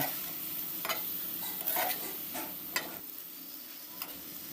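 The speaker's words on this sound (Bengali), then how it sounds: "সমস্ত কিছু আমি খুব ভালো করে মিশিয়ে নিচ্ছি" A spoon stirs spinach with soaked red lentils in a cooking pan, faint scraping strokes and soft clicks over a low sizzle, close and quiet.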